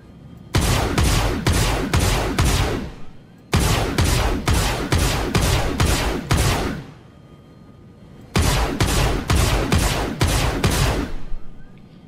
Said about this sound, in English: The refining ship weapon audio, which we saw a great scene firing for the Bay Ring size 2 laser cannon